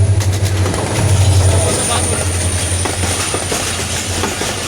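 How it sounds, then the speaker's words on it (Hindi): A train rolls through a railway station in India with a steady rumble, low hum and rhythmic wheel clatter. It is close and loud, with sharp clacks spread through the passage. "ये ट्रेन आ रही है"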